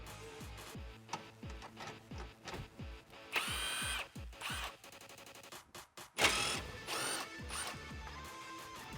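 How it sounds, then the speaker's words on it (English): A power tool or ratchet working a 10mm socket on the top grille bolts of a 2016-2019 Toyota Tacoma, with clicking ratchet strokes, short whirring bursts and a couple of louder spins, close up and with no talking. "Grab a 10mm socket and remove the 2 bolts out of the top of the grill."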